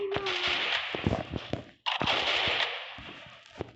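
Rapid bursts of automatic gunfire from the video game Free Fire, two long, loud, dense volleys separated by a brief gap, with scattered sharper single shots mixed in.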